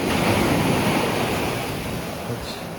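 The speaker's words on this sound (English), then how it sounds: "we were watching waves crash under this rock formation here" Ocean surf at low tide surging and crashing under a coastal rock formation near Lagos, Portugal, a continuous loud wash of churning water mixed with wind noise on the microphone, no voices.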